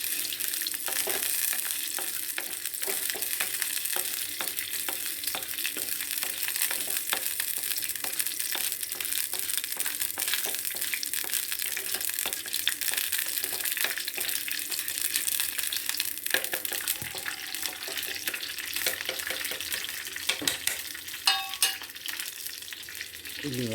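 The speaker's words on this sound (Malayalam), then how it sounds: "ചൂടായ എണ്ണയിലോട്ട് ഉലുവയാണ് ഗൈസ് ഫസ്റ്റ് ഇടുന്ന" Fenugreek seeds fry in hot oil with a continuous close, bright sizzle, while a spoon scrapes and stirs through the pan again and again. No voices are heard.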